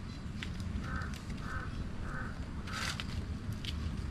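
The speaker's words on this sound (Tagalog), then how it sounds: "Galit yung uwak." Several harsh crow caws repeat at a steady pace over a constant low rumble of outdoor background noise, moderately distant.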